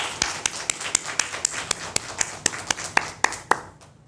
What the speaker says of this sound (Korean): 우리 격려하는 마음으로 박수 한번 하겠습니다